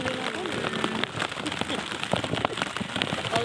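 Heavy rain pours onto a soybean field, a dense steady patter of close drops with occasional louder splashes and no letup.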